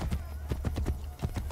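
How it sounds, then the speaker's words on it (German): An armored horse trots in Assassin's Creed Brotherhood, its hooves striking in a quick, steady clip-clop rhythm that is close and clear throughout. "dass Pferde hier nicht wirklich galoppieren können, sondern nur dieses schnellere Traben"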